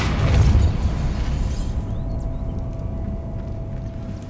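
In Hogwarts Legacy, a Depulso force spell releases one deep, close thump of a blast that rolls into a fading rumble, leaving a quiet tonal ambience behind.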